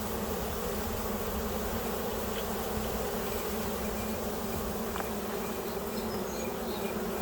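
Honey bees at a hive buzz in a dense, steady drone after a sugar shake varroa mite test, loud and continuous throughout with no voices.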